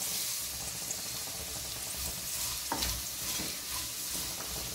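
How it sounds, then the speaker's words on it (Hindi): Poha tipped into a pan of fried vegetables, a soft continuous sizzle with a few sharp scraping stir strokes near the middle, close and moderately quiet. "अब मैं पोहे को डाल रही हूँ।"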